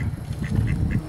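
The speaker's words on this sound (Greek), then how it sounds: "Σκληρές πάπιες." Several short duck quacks in a row, close by, over a low rumbling background noise.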